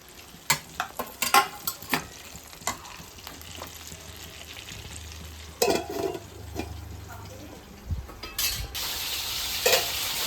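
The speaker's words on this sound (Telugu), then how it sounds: "పచ్చిమిరపకాయలు టమాటాలు వేసి వేయిస్తున్నా" Green chillies and tomatoes fry in a pan for a Rayalaseema-style home dish, a soft steady sizzle broken by stirring scrapes and clinks of a utensil against the pan.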